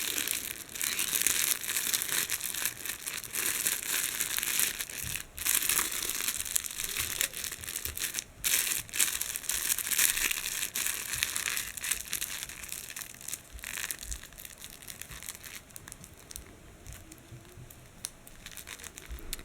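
Loud, continuous crinkling and crumpling close up, as stiff material is folded and pressed, with brief pauses between bursts.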